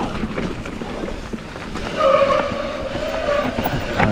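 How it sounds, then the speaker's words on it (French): Mountain bike disc brakes squealing on a steep enduro descent in a bike park, a sustained high whine that rises through the second half of the clip over rough, rattling wind and trail noise. "même les freins commencent à chanter aussi"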